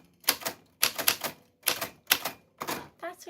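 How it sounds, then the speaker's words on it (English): Manual typewriter keys clacking out a short name in five quick bursts of rapid strikes separated by brief pauses, ending with a softer mechanical rattle. "That's what your name sounds like on the typewriter."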